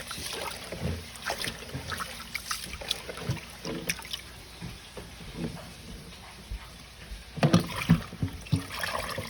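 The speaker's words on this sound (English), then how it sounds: "So you're basically rubbing the grains together and wash it." Rice grains being rubbed and rinsed in water for a Jamaican rice and peas dish, with irregular sloshing, swishing and trickling that swells in a louder splashy burst near the end.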